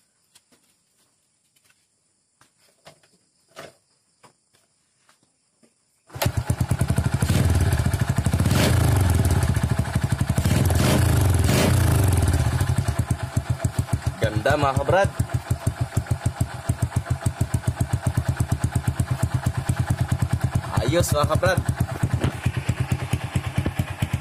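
A motorcycle engine fitted with a homemade exhaust pipe made from an old piston starts after a quiet stretch, then runs with a loud, rapid, steady putter and occasional revs, while someone talks over it.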